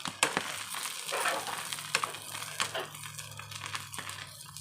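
Goat brain fries in a pan, Telangana-style, giving a steady close sizzle with crackling pops and occasional stirring scrapes throughout.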